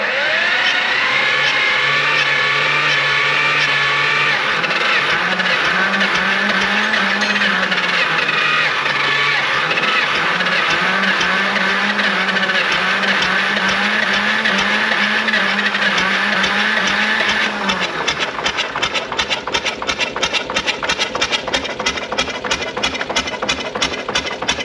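An air-cooled Lister diesel engine runs loud and close with a rapid, steady mechanical clatter and wavering pitch, the knocking growing rougher and more uneven toward the end.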